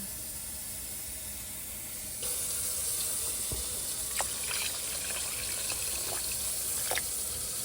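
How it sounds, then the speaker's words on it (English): A stream of water poured into a pot starts suddenly and runs steadily with a hissing splash, with a few small knocks of the pot in between. "I'm gonna add about 32 ounces of water."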